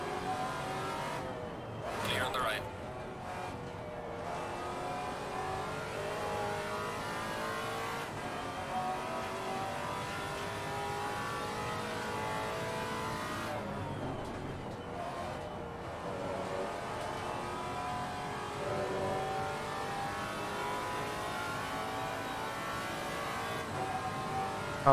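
A Maserati MC GT4 race car in Assetto Corsa Competizione howls through sustained high revs, with upshifts, downshift blips and brief tire squeal across a continuous lap.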